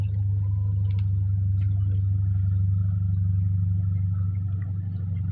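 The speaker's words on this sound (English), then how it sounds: "See, we have one vehicle making this noise" A small car drives by early in the morning with a steady, low engine rumble and tire drone that stays close and loud throughout, with faint higher ambient noise above it and no talking.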